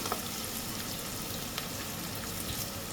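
Food sautés in a pan for a white chicken curry with a faint, steady sizzling hiss and a few soft ticks and pops, and no talk.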